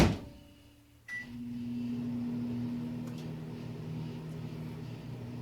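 Microwave oven running while it melts chocolate, opening with a short clack and a beep, followed by a steady, moderately loud electric hum with a low drone that continues unbroken to the end.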